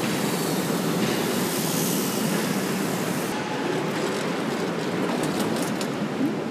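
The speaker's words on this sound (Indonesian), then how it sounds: "kira kita masuk kereta" A train in Germany rumbles along on its rails, a steady loud broadband roar with faint clicking from the wheels that eases slightly partway through, with no talk.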